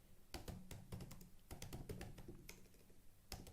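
Someone typing on a computer keyboard, quick bursts of close, crisp key clicks with short pauses between groups, quiet and with no voices.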